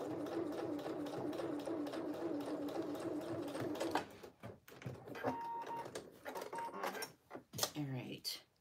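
A sewing machine runs a tee shirt seam steadily for about four seconds, then stops and starts in short bursts while a person talks over the stitching.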